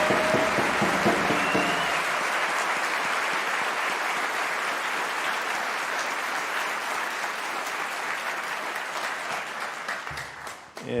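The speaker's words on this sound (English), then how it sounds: "One more loud round of applause for all of our graduates today" Sustained applause from a seated audience honoring graduates at a science convocation ceremony, a broad even roar of clapping that holds steady, then thins and fades out at the end.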